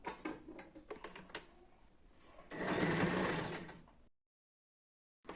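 Sewing machine stitching a chudidhar top, quick rattling needle bursts followed by a longer steady whirring run, close and clear, then a pause with no talking.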